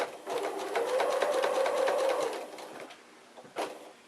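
A sewing machine stitches a layered quilt in rapid, even needle strokes for about two seconds, slows and stops, then a short burst of stitches follows; close and fairly loud, no talk.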